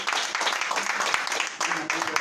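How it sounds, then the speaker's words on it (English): An audience at a public arts discussion giving a round of hand claps, steady moderate applause filling the whole stretch with a brief dip near the end. "We got to acknowledge them with some hand claps"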